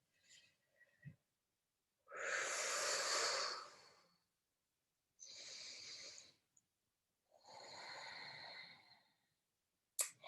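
Slow yoga breaths during a guided session: three long, loud, airy inhale-exhale rushes, each lasting a second or two and separated by quiet pauses, with a softer breath at the start.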